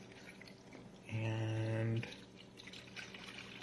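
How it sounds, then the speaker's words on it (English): Water is poured into the reservoir of a GEVI 12-cup programmable coffee maker, a loud resonant filling stream lasting about a second amid quieter handling, with a brief spoken word nearby. "first I have to, of course, pour some water in the container."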